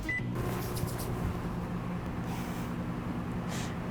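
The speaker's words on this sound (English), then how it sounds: "we're gonna melt that very quickly in the microwave" A microwave oven runs steadily while melting salted butter, its low mechanical hum and fan drone continuous and close throughout, with a faint brief tone at the start.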